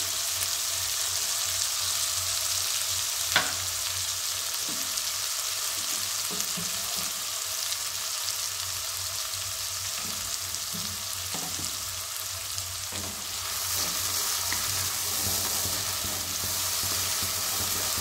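Bay leaf and salt frying in hot oil for a cashew curry, a steady, close hiss of sizzling with light stirring taps and scrapes, no talking.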